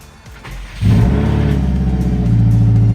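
JDM-swapped blob eye Subaru starting quiet, then its engine suddenly revs and pulls hard on a test drive, a loud, close, throaty rumble rising in pitch over a few seconds.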